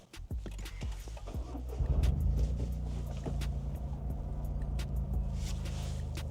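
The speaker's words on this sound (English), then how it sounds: "Here's some ASMR of the startup of the GR Corolla." Toyota GR Corolla engine cranking and catching, then settling into a steady, deep idle that carries on close and loud, with a few clicks over it and no talk.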